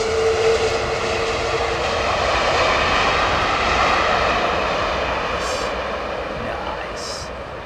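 Airliner with Rolls-Royce Trent 700 engines roaring in thrust reverse on landing in heavy rain, a loud sustained broadband rush that swells and slowly eases, steady throughout.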